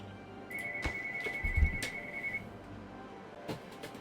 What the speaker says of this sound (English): Try to get to work and the phone rings.